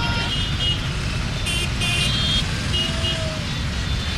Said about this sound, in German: vor den heranrasenden, wild hupenden Fahrzeugen zeigen